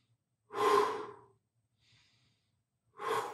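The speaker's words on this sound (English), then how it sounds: "Take some deep breaths." Deep breathing during an Animal Flow exercise class: two long, close, breathy exhalations with a faint soft breath between them in an otherwise quiet room.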